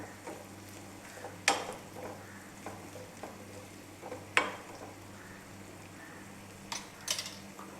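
Grated coconut browns in a pan for jackfruit payasam, giving a soft steady sizzle with occasional scraping knocks of the stirring spoon against the pan, quiet and close.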